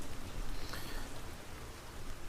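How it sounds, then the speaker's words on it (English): Rain falls in a steady hiss of broadband patter, with no clear individual drops standing out. "Will this rain hamper any?"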